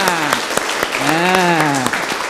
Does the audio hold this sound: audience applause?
yes